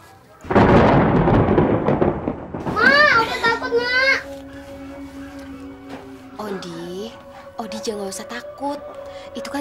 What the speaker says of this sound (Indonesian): Cuman petir.